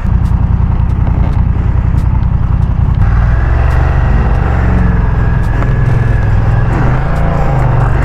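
A BMW F900R two-cylinder motorcycle engine runs loud and close, with a steady low throbbing note that rises in pitch and grows rougher as it revs up partway through, and no voices.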